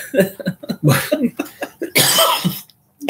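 A run of close, harsh coughs, several in quick succession with a throaty edge, ending in a longer raspy burst before a short pause.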